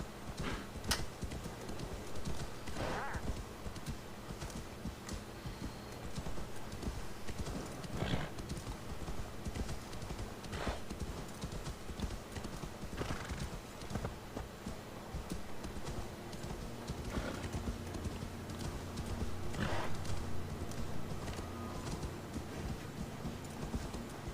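Horse hooves clip-clop steadily in Assassin's Creed Valhalla, a continuous mid-distance trot with occasional louder hoof strikes over a low game ambience.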